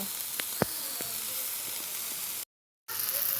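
Chilies fry in mustard oil for a taki fish bharta, a steady hissing sizzle with a few sharp pops early on, cut by a brief silent break before the sizzle resumes.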